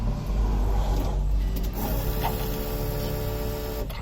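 A Walbro 255 electric fuel pump runs inside a built 2002 Subaru WRX, giving a steady, continuous mechanical whir and hum at moderate level without pause for the whole stretch.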